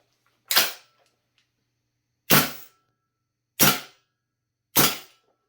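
A VFC HK 417D gas airsoft rifle fires four sharp single shots, close and loud, each a crisp crack with quick decay, spaced irregularly with silence between.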